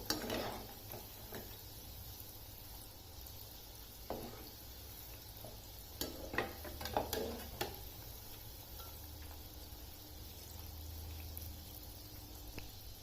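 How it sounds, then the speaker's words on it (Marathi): Mung dal vadas fry in oil over a medium flame, a faint steady sizzle with occasional soft clinks and utensil taps, quiet and close. "हे वडे क्रिस्पी आणि गोल्डन होईपर्यंत दोन्ही बाजूनी चांगले तळून घ्या"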